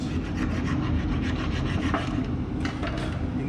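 A brake file scrapes rust and grime off a Ford Transit rear brake in steady, continuous rasping strokes, close and fairly loud throughout with no talking.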